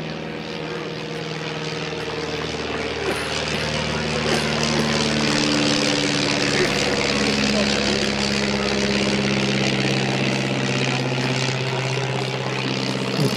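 A propeller-driven SPV-2 aircraft sweeps by on its final pass at an air show in Ursel, a sustained engine drone that swells in loudness midway and holds under a faint announcer's voice.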